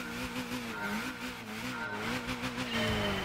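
A Lotus car engine in the Gran Turismo 6 racing game, a steady, loud droning tone that rises and falls slightly as the car drives, with faint tyre squeal and no talking.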